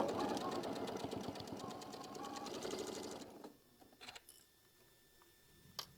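A sewing machine stitches quilt block seams in a rapid, even burst of mechanical ticking, then stops, leaving a few soft clicks and handling noises.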